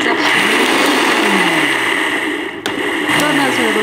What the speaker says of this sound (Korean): 먼저 이 호두를 곱게 갈아줄 텐데